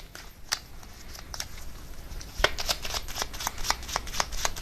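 Tarot cards are shuffled and drawn by hand, a run of crisp riffling snaps and soft card slides, quiet and close, growing busier in the second half.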